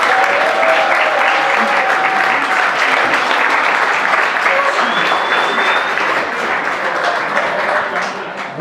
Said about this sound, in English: we will all give them a round of applause